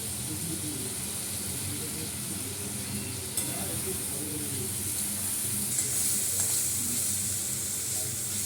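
Potato pieces sizzling and being stirred in a pan, a steady soft fry with hiss and occasional scraping clinks, fairly quiet, with a voice talking faintly over it.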